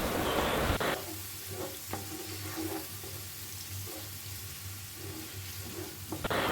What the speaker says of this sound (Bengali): তো পেঁয়াজটাকে এখন আমরা সুন্দর করে কিছুক্ষণ একটু এভাবে ভেজে নিব